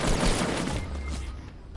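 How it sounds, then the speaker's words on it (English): Gunfire in a first-person shooter game, a dense burst of shots up front that thins into scattered pops, fairly loud and unaccompanied by any voice. "Somebody shooting?"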